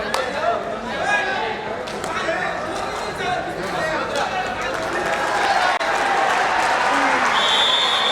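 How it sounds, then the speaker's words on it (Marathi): A large outdoor crowd at a kabaddi match between Jay Hanuman Uchede and TBM Karavi cheers and claps continuously, a dense roar of voices and applause mixed with nearby talking. "मैदान क्रमांक 3 वर देखील तशाच पद्धतीनं जल्लोष मात्र आपल्याला ऐकायला मिळतोय"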